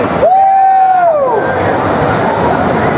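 A loud indoor crowd cheers and roars at a classic gaming championship grand final at Play Expo Manchester, with a brief whistle-like tone sliding down early on amid the dense, continuous noise.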